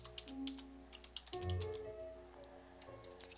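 Keys clatter on a computer keyboard in a few scattered, quiet taps, heard faintly under a steady musical game soundtrack from Minecraft.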